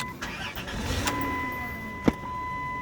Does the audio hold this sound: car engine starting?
yes